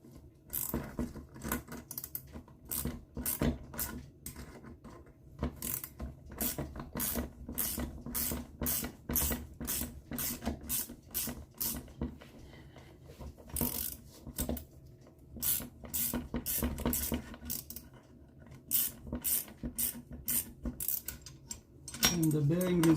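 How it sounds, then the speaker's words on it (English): A bearing puller works a bearing out of an NSU Quickly two-speed moped engine during a rebuild, giving a rapid series of close metallic clicks and ratchet-like scrapes with brief pauses. "I'm going to use this puller now to take the bearing out"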